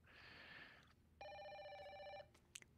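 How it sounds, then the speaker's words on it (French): An old-fashioned telephone bell rings in the video game Project Zero, two long trilling rings separated by a short gap, clear and steady over faint ambient background, ending with a small click. "le téléphone sonne"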